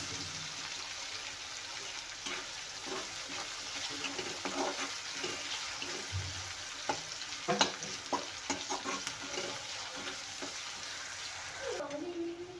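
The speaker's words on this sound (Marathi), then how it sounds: "आता हे आपण तेलात भाजून घेऊया" Onion and green chillies roast in oil for a methi and ridge gourd dry vegetable, a quiet, even sizzle broken by scattered spoon scrapes and taps against the pan.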